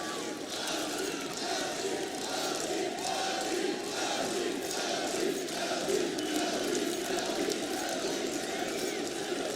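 Large arena crowd at the MLG CS:GO Major grand final in Columbus, Na'Vi versus Luminosity, roaring and cheering continuously in a dense, reverberant wash with faint voices under it.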